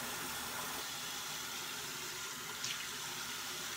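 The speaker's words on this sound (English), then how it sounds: "I'm gonna rinse it off and kind of go over my face one more time." Tap water running steadily into a sink while a face is rinsed, a constant soft hiss at moderate distance with no voices.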